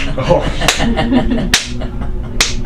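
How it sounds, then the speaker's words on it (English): Scattered audience claps at an LA School of Comedy show, a few sharp isolated smacks spaced apart over a murmur of voices and faint laughter. "Clap if you ended up 4 days in the hospital"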